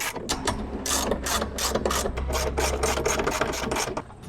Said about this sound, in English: let's screw this in place, and hopefully it's never gonna go out